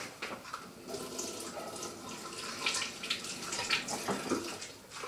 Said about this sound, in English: Now I'm going to wash these strawberries because they were picked fresh this morning.